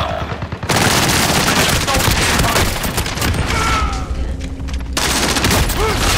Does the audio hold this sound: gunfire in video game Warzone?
yes